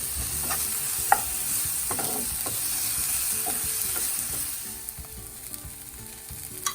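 Onion sautés in a pan with a continuous soft sizzle, punctuated by occasional spoon scrapes and taps, close and steady without any voices.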